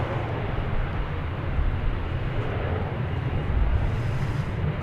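A China Airlines Cargo Boeing 747 at DFW Airport produces a steady, broad engine roar, low and rumbling with a constant loudness throughout and no distinct events, with no voices.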